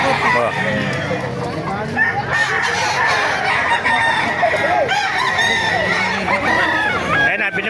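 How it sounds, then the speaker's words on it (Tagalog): Roosters crowing repeatedly amid clucking fowl at a busy chicken market in Baliuag, with several birds calling over each other and people chatting in the background. "Ganda ng mga manok, oh."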